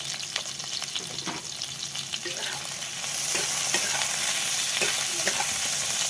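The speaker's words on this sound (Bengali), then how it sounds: "এবার নুন, হলুদ আর বেগুন ভালো করে নাড়াচাড়া করে" Eggplant fries with salt and turmeric as a spatula stirs it, giving a close, continuous sizzle with scraping strokes. The frying grows noticeably louder and denser halfway through.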